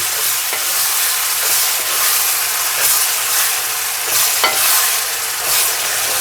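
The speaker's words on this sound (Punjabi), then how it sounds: "ਹੁਣ ਆਪਾਂ ਇਸ ਦੇ ਵਿੱਚ ਇਹ ਟਮਾਟਰ ਤੇ ਹਰੀ ਮਿਰਚਾਂ ਦਾ ਚੋਪ ਮਸਾਲਾ ਹੈ ਜਿਹੜਾ ਬਣਾਇਆ ਉਹ ਪਾ ਦਿੱਤਾ ਹੈ ਤੇ ਇਸ ਨੂੰ ਚੰਗੀ ਤਰ੍ਹਾਂ ਹੁਣ ਆਪਾਂ ਭੁੰਨਾਂਗੇ" Tomato and green chilli masala stirred and fried for a lotus stem curry, a steady close sizzle and hiss with soft scraping stir strokes throughout, no talking.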